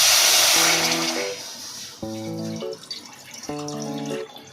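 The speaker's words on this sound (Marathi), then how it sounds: "यात आपण पाणी टाकून घेतलेलं आहे." Water splashes into a wok for boiling noodles. The pouring rush is loudest at the start and fades, while a melodic musical tune plays over it in three phrases.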